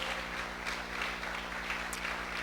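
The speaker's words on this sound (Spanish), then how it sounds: "Denle un aplauso al que vive." A church congregation at a sermon applauds steadily in a continuous wash of clapping over a low electrical hum, with no clear voices.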